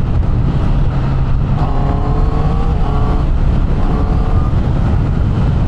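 A 2024 Honda CB650R E-Clutch motorcycle engine drones steadily while riding, with rising tones as it climbs through fifth and sixth gear, loud and continuous with no talk over it.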